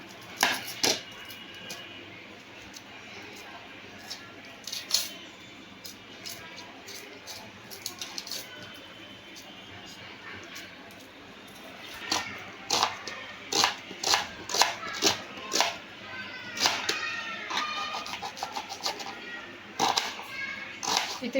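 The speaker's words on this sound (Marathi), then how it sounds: "आता मी इथे हे कांदे चिरून घेणार आहे." Onions being chopped finely with a knife on a board, a steady run of sharp, close taps that quicken into bursts of rapid cutting toward the end over a low room hum.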